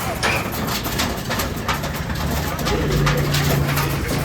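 Giribaj pigeons cooing nearby: overlapping low, rolling coos run continuously with a steady background murmur, and a voice talks partway through.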